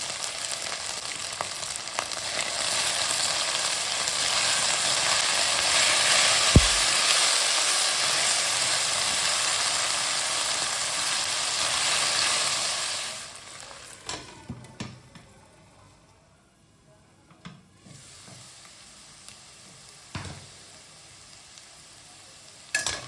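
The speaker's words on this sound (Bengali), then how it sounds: "আমরা তেলে ভাজতে দিয়ে দেব।" Stuffed potatoes frying in salted oil give a loud, steady sizzle for about thirteen seconds. It then drops to a quieter crackle with a few faint clinks, and no one talks.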